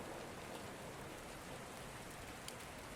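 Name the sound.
gentle rain falling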